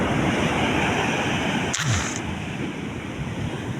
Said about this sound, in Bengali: জলটা পুরো ফেনা হয়ে চলে আসছে।